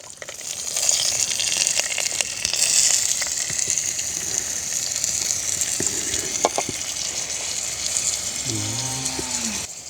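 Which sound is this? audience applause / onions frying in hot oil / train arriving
onions frying in hot oil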